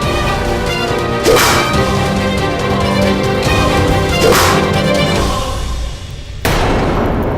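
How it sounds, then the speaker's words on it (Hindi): A whip cracks three times, sharp and loud, spaced a few seconds apart over a steady dramatic music bed in a Chandrakanta fantasy period drama set around Chunargarh. "सुन सकते हो तो इस चाबुक की आवाज को सुनो।"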